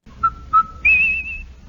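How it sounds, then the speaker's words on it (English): A two-tone whistle from a Rinso soap radio advertisement: two short mid-pitched toots followed by a longer, higher sustained note, clear and alone with no talk. "Hey, Andy, you hear that whistle?"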